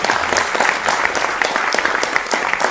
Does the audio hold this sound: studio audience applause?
yes